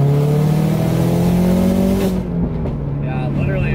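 Subaru WRX tuned to about 400 wheel horsepower with an external wastegate, its engine revving hard and accelerating close up, loud and rising in pitch, then easing off, as people talk.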